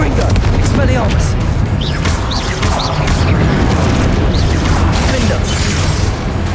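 Combat spells crackle and burst in a Hogwarts Legacy battle, Confringo fire blasts and Expelliarmus disarming hits landing amid dense booms and impacts that pound without pause.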